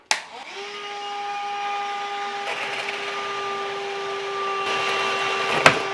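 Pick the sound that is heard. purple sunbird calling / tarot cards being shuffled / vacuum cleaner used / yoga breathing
vacuum cleaner used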